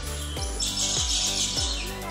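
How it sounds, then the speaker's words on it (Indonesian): Birds call at Lembang Park and Zoo, a few repeated falling calls about half a second apart, with a steady high chatter of other birds behind them. "Di sini banyak burung."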